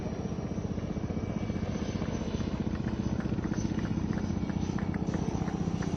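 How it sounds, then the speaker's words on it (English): Indian Navy indigenous Advanced Light Helicopter Mark III flying past at a naval display, a steady loud rotor throb with dense rhythmic blade chop and turbine whine, continuous and close, with no talk. "the indigenous advanced light helicopter Mark III"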